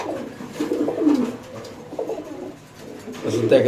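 White beauty pigeons, kept with their young, give low rolling coos in several close bursts with short pauses, and a faint murmur of people is in the background.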